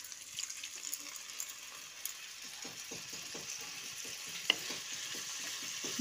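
Okra and potatoes fry in a pan with a steady, soft sizzle, broken by light scraping stirs and one brief sharp spit as a little water is sprinkled in; faint and close, no talking.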